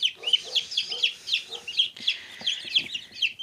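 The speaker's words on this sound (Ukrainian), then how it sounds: "І курчатка, індичатка." Many chicks and turkey poults peep busily and continuously at close range, high shrill chirps overlapping in quick bursts with faint shuffling underneath.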